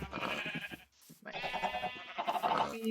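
Sheep bleating in Minecraft: two wavering bleats separated by a short gap, clear and close with nothing else audible.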